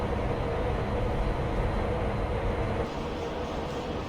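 A Class 92 electric locomotive in Train Sim Classic rumbles along steadily, a loud, continuous low drone of running gear and motor with no talking.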